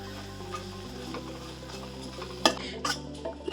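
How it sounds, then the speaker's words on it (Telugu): Whisked curd being stirred into gravy in a pan over low heat for a phool makhana curry: soft, steady scraping with a few sharp spoon clinks against the pan near the end, over a constant low hum. "ఇలా మంచిగా కలుపుకోవాలి, పెరుగు విరిగిపోకుండా"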